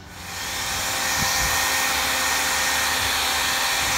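Hair dryer blowing hot air onto a vinyl logo, a steady close roar of fan and airflow that rises in the first half-second and then holds constant, with no talk.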